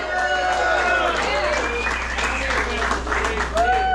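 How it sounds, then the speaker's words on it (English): Lively audience clapping for the drummer at a Chicago blues club show, sustained and fairly loud, with whoops and shouted voices from the crowd running through it over a low steady hum. "Give him a nice round of applause"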